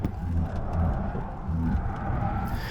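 Volkswagen ID.7 electric car accelerating hard out of a turn during a slalom and moose-test evasive manoeuvre, a steady close whir and low road rumble holding throughout without pause.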